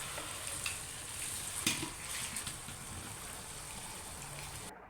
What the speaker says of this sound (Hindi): इसे मिक्स करते रहें, अच्छे से हिलाते रहें चिकन को।